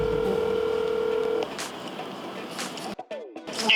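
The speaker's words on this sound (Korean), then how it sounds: "타투 리셋 전화 연결 해볼까요?" Telephone being dialed to place a call, a steady tone that stops, then a string of quick, short dialing beeps over a soft background hiss, with no voices.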